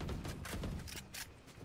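Rapid gunshots in the tactical shooter Valorant, a quick series of sharp punchy bursts fired in close succession, fairly loud and close over game background, no talk.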